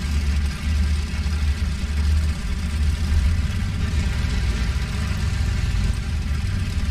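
A WWII aircraft engine idling as the plane taxis in a flight combat game, a steady low rumbling drone with a faint throb, held at an even level throughout.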